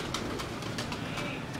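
Teddy pigeons of a pure show breed coo softly in a steady, low rhythmic murmur, with faint repeated calls over a continuous background hum and no talking.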